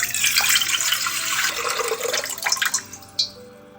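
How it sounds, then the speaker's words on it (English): Salt water for Neapolitan pizza dough is poured into a stand mixer bowl. It makes a splashing stream for about three seconds, then a few drips and a short final splash. No one speaks. "I add it to the stand mixer."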